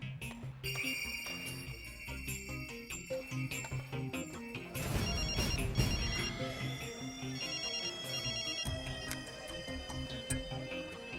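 A mobile phone ringtone plays in a Malayalam film scene, a bright melodic electronic tune repeating continuously for several seconds, with a louder, fuller passage midway and no talking over it.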